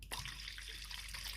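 Water pouring into a bowl of pizza dough ingredients, a short, faint steady trickling stream.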